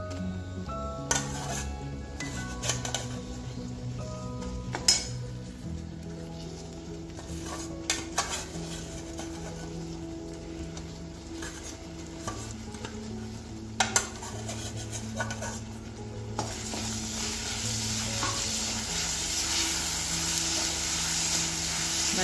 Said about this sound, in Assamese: নাৰিকল আৰু গুৰৰ সৈতে লগ কৰি মই ভাজিব লৈছোঁ। এনেকৈ মই নাৰিকল গুৰ এইখিনি লৰাই আছোঁ।